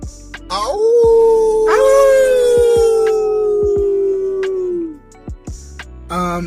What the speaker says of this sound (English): These dogs just got famous right here today.